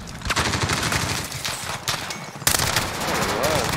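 Automatic gunfire from the Warzone video game, with a QBZ assault rifle, rattles in rapid dense bursts across the whole moment, with a sharper crack partway through, under continuous game noise.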